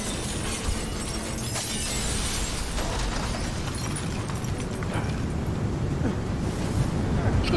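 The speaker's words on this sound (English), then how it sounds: "It's got a bit windy all of a sudden." Gusting wind in the video game Deus Ex: Mankind Divided, a loud, broad roaring rush that swells and churns continuously, with brief rattling crackles mixed in and no talking.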